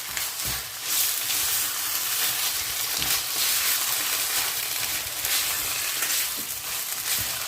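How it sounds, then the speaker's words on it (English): Beef sizzles in rendang paste while being stirred, producing a loud, continuous frying hiss close by, swelling slightly with each stir. No voices are present. "I'm simply going to stir it until all the beef is coated with the paste."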